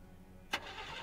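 A car engine in The Walking Dead Season 2 game cranks with a short, sharp burst and then settles into a low, steady running rumble, heard close and on its own.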